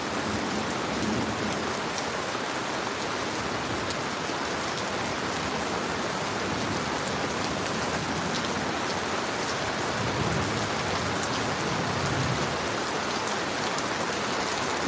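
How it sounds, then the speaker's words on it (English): Heavy rain pours down in a steady, dense hiss of countless drops hitting surfaces, loud and unbroken throughout with no voices. "Yeah, it's raining."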